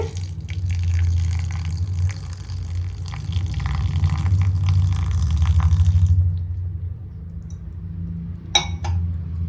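Coconut water from a freshly cracked coconut is poured onto grated coconut over a low rumble, a continuous splashing stream that stops abruptly partway through, followed by a single faint clink.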